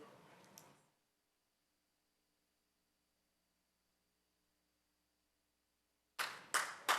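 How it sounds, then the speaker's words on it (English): Applause in a council chamber after a vote: a brief patter of clapping at the start fades into silence, then three sharp bursts of clapping return near the end. "We don't clap on those bills."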